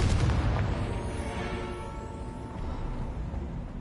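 A Confringo blasting spell goes off in Hogwarts Legacy, a loud booming burst at the start that settles into a rumbling, crackling roar fading slowly over several seconds.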